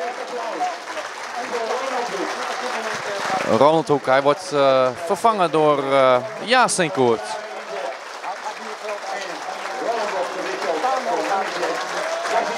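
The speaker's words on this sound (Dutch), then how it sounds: "Davelend applaus vanaf de tribune." Applause rises from the stands at a Dutch amateur football match between DVS'33 Ermelo and SV Spakenburg, a sustained crowd clapping heard under a commentator's speech.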